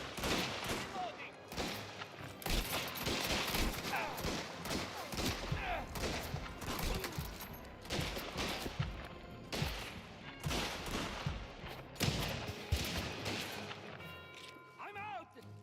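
Heavy, continuous gunfire in a shooting video game, with rapid bursts and dense volleys running throughout, loud and close, while players shout over the shooting.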